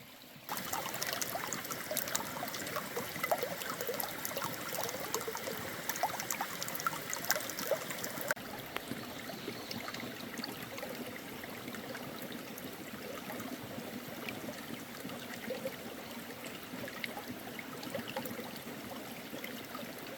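A small creek on a Missouri Ozarks farm flows and trickles steadily over its rocky bed, a continuous close wash of running water with no voices.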